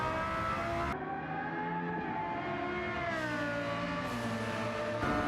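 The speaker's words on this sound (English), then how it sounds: "Beautiful downshifts from the V10 in Nate's Supra." A V10 engine swapped into a Toyota Supra in Gran Turismo 7 on the Deep Forest track revs loud and high, with several sharp pitch drops through downshifts and rises between them, heard alone and close.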